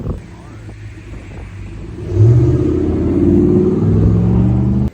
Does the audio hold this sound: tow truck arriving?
yes